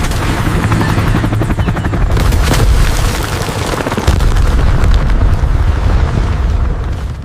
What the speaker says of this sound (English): A burning helicopter plummeted into the Congo jungle like a shattered meteor, leaving only one survivor